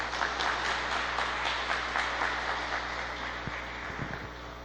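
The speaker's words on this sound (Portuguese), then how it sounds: "é uma linda salva de palmas para o Senhor" Steady applause from a congregation at a church service, many hands clapping continuously and fading slightly toward the end, with no voices over it.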